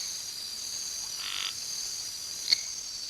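A cartoon frog croak sound effect playing in a Scratch program, one short croak midway with a brief click after it, over a quiet steady hiss with no talking.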